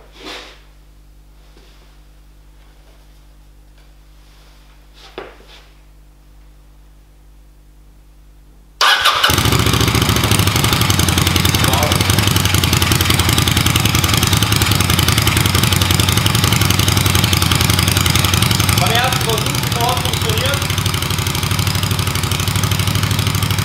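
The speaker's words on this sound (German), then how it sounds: "Wie ihr hören konntet, ist das Bike sofort angesprungen" A Kawasaki Vulcan VN 800 bobber's engine cranks and fires after a few quiet clicks, then settles into a loud, steady idle that runs on close by with no talking.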